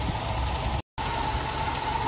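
A 1987 Toyota 4Runner with the 22RE four-cylinder idles steadily with its ignition timing set to 5 degrees, a continuous close engine hum with one brief dropout, no voices.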